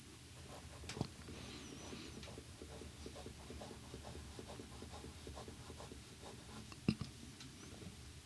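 Fountain pen nib scratching across paper in a steady run of small, soft strokes, close and quiet, with a couple of sharper taps along the way.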